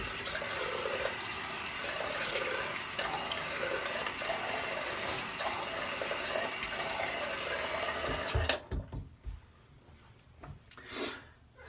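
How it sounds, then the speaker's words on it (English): Water runs into a Thirsty Badger leather shaving bowl with a steady, close rushing sound for about eight seconds, then cuts off, leaving a few faint handling noises. "I'm just gonna get a little bit of water in my Thirsty Badger leather bowl and wet the face"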